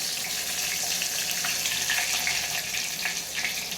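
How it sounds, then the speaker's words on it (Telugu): Mustard seeds, cumin, urad dal and garlic sizzling in hot oil for a tomato pappu tempering, a steady bright crackling hiss with scattered pops, close and continuous with no talking. "ఇలా నూనె వేడయ్యాక ఆవాలు, జీలకర్ర, తాలింపుకి మినప్పప్పు వేయాలండి"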